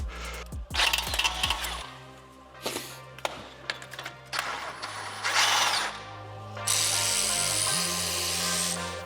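An impact gun works on the front hub of a Land Rover LR4 with a humming hub bearing. Tool clatter comes first, then short mechanical bursts, and a loud sustained run builds toward the end.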